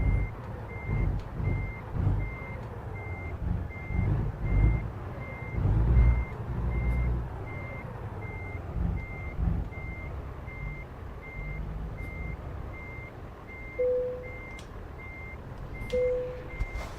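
A Kenworth T680 in American Truck Simulator backs up with a steady evenly spaced reversing beep over a low rumbling diesel engine, with a few air hiss bursts near the end.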